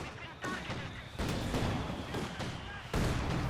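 Heavy tank cannon fire in Company of Heroes 2, the Schwerer Panzer HQ shooting amid battlefield noise: sharp booming bursts at intervals over dense, continuous rumble of combat.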